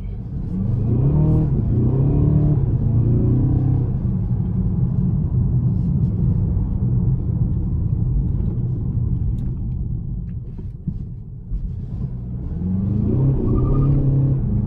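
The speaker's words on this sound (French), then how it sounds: "Vous avez entendu les pneus crisser, voilà, c'est ça le CLA 2019 220D." A 2019 Mercedes CLA 220D diesel accelerates hard with a loud, continuous engine rumble that builds, dips briefly near the end and then surges again, close to the microphone; any tire squeal is not distinct.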